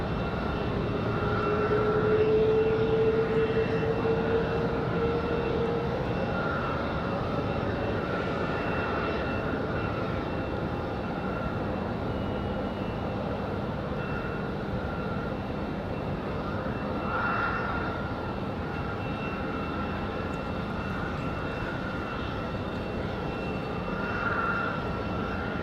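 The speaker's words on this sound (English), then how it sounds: "So there goes the American 777 getting ready to head back to London." American Airlines Boeing 777 airliner at Raleigh-Durham airport at night, its engines a continuous broad roar held at moderate distance for the whole stretch, steady and unbroken with no speech.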